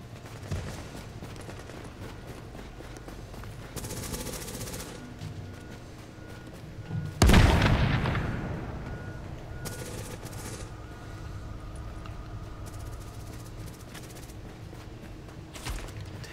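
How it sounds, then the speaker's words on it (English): A sharp, loud gunshot bursts out in The Division, followed by a decaying boom and scattered fainter shots over steady background noise. "Damn sniper."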